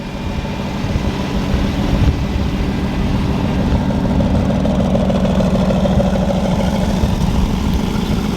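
An AMG car engine idles in a steady, continuous low rumble, holding an even level throughout with no revving or voices.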